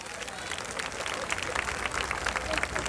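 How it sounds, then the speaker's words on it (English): Dense applause from a large crowd at the 2000 Redeem the Dream March on Washington, steady and fairly loud throughout, with scattered voices and cheers mixed in. "Give him a round of applause"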